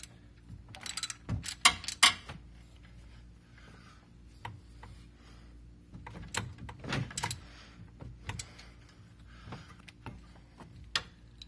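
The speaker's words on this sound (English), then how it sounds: "Now grab the 12mm again. Tighten down the top bolt on the alternator." 12mm ratchet tightening the top alternator bolt on a 2011-2017 Honda Odyssey, quick bursts of close, faint clicking at irregular intervals with quiet gaps between.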